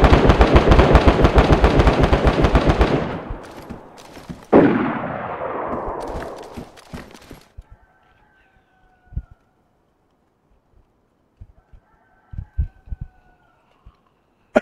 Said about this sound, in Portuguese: tá trocando tiro direto